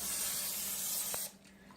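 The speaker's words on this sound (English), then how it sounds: "we're going to spray" Cooking oil spray hisses from an aerosol can into round cake pans, one continuous close spray lasting over a second before cutting off into quiet room tone.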